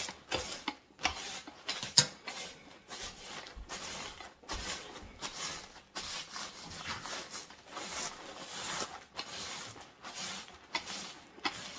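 A rolling pin crushes freeze-dried strawberries into powder in a quick series of dry, brittle crunches and crackles, close and fairly quiet, with no talking.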